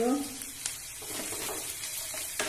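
Curry leaves and asafoetida sizzle in hot oil with a soft, steady crackle, a few sharp pops and ticks standing out near the start and end.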